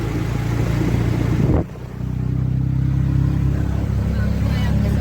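Auto rickshaw engine droning steadily while riding, a loud continuous low hum that dips briefly around one and a half seconds and then resumes at full strength.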